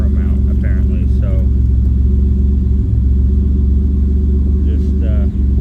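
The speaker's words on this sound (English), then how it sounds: "I start the car." The engine of a 1987 Pontiac Fiero runs with a steady, loud, low rumble close by, while someone talks briefly over it.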